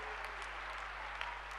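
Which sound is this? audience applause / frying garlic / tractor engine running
audience applause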